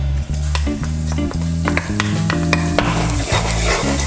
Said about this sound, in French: On va venir ajouter de l'huile et faire griller un peu d'ail.